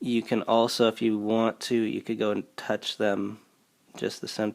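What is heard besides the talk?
No everyday noise stands out behind the speech.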